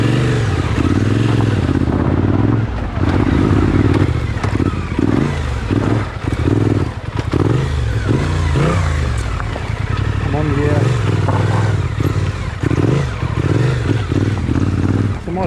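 Maxi-trail motorcycle on a tight-turn riding course, engine droning and revving continuously with rising and falling pitch, close and loud, with an instructor talking over it.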